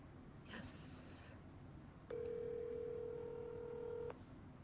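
A telephone keypad dials a number, with DTMF tones sounding as a brief burst early on and then a steady held tone lasting about two seconds, clear and close over faint background noise.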